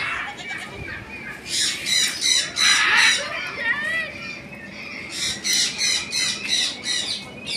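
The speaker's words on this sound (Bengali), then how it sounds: "এই দেখেন ইরাকি কবুতর" Iraqi pigeons at a farm give repeated harsh squawking calls in bursts, close and loud, with a voice talking over them.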